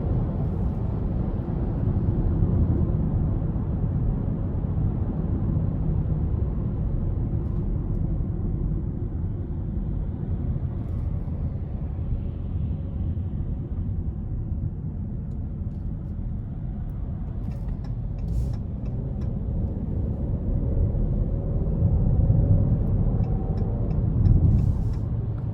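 A 2021 Jeep Cherokee Limited with the 2.0 engine accelerates under throttle, heard from inside as a steady low engine drone and road rumble that swells slightly near the end, with no talk.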